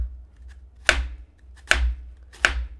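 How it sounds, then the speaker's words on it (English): A knife slowly slices thin pieces, making three crisp, evenly spaced cuts against a cutting board, each with a sharp tap that decays quickly, close up with a low hum underneath and no talking. "you just slowly take thin slices"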